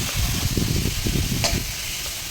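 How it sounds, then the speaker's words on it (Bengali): Prawns frying lightly in a hot pan, giving a close, continuous sizzle with soft crackling pops and a brief hiss partway through. "এই যে চিংড়ি মাছটা দেখছেন, এটাকে আমি একটু কড়াভাবে একটু ভেজে নেবো"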